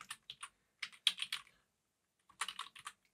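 Keys clack on a computer keyboard in short irregular bursts of typing, close and clear, with a silent gap in the middle and no voices.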